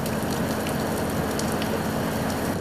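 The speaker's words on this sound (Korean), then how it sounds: "그새 빗방울이 더 굵어졌습니다." Rain falling on a small fishing boat at sea, with heavier drops. Steady dense hiss and patter close by, continuous and fairly soft, with no talk.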